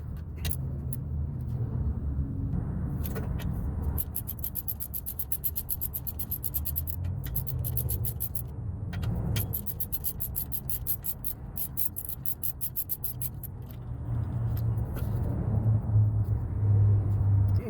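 A ratchet with a hex socket bit works a brake caliper bolt on a 1999 Chevrolet Tahoe 4x4. It gives long runs of quick, sharp clicking ticks over a low background rumble, with brief pauses between bursts.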